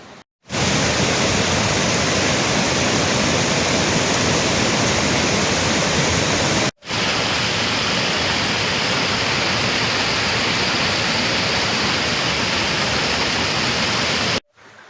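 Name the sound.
spring water flowing down from mountains at Semuc Champey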